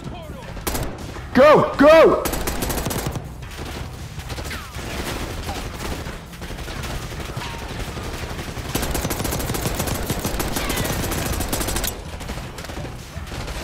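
Heavy gunfire from a Call of Duty Black Ops 6 campaign firefight rattles on nearly throughout, dense and loud, with a brief louder burst early on and voices shouting over the shooting.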